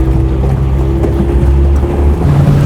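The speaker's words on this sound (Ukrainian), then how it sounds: "Ми побачили перший човен на воді." Motorboat travelling on a river among islands in a Ukrainian landscape park, a steady low engine drone with wind and water noise throughout, fairly close and continuous.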